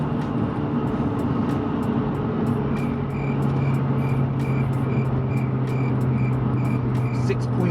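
Audi S3 facelift accelerating hard on a timed run, a steady loud engine drone holding throughout with faint ticking overtones, no pauses.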